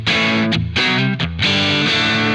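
Electric guitar with crunchy overdrive plays a few distorted chords, sustained, separated by two brief gaps.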